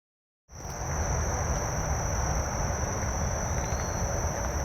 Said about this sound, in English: These crickets are so loud.